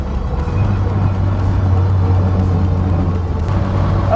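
An SR20-swapped Nissan Bluebird Datsun 510 driving, its engine a steady low drone heard from inside the car, with a constant hum and no clear tire chirp.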